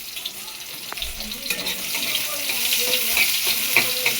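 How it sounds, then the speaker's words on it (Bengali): Chopped onion fries in oil in a wok, a loud continuous sizzle with scattered stirring clinks and scrapes, growing slightly louder over time. "পেঁয়াজটাকে লাল লাল করে ভেজে নেব।"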